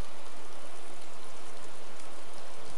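Rain falls steadily in the DayZ Standalone video game, a dense, even patter of drops on surfaces with no break.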